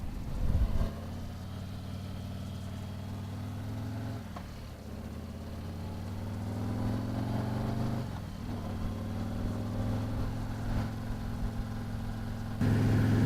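A 2019 Harley-Davidson trike with a 114 engine cruising at about 55 mph, its low steady rumble droning continuously under wind noise, with a slight rise in pitch midway.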